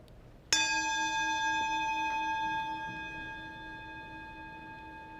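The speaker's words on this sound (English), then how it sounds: "As we follow the sound of the bell into silence, let us allow ourselves to arrive here" A single bell struck once during a Unitarian Universalist worship service, ringing out clearly and then fading slowly into quiet over several seconds with a long, steady resonant tone.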